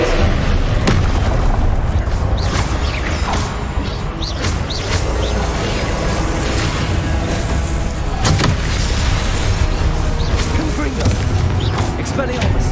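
Spell blasts, including Incendio, Expelliarmus and Confringo, fire repeatedly in Hogwarts Legacy as loud booms, crashes and crackling bursts over a constant rumble, with shouting voices throughout.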